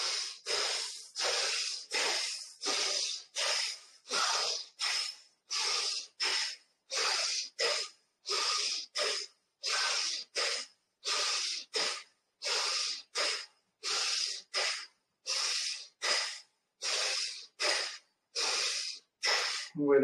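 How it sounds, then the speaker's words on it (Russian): Rapid, forceful bhastrika belly breaths during a yoga and pranayama session, a long rhythmic run of loud, close, hissing huffs through the nose at a steady fast pace, about two per second, with no talking. "Хастрика животом."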